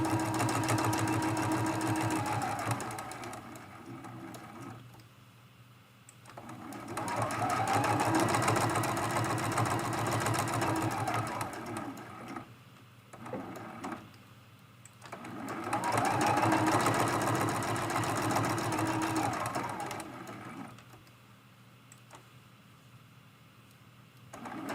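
A sewing machine stitches a hexagon-patch mug rug in three long runs, each a steady, close mechanical whir lasting several seconds, separated by brief quieter pauses.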